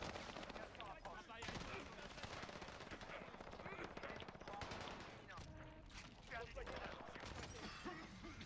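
Rapid automatic gunfire in Warzone on Rebirth Island, dense continuous bursts of shots with chaotic battle noise throughout, loud and close, with a voice talking over it.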